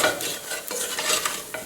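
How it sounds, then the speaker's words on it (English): Diced potatoes tossed with paprika in a little oil are stirred in a frying pan, giving a quick run of scraping, rustling strokes over a soft sizzle, close and without talk. "I can mix my potatoes with the paprika"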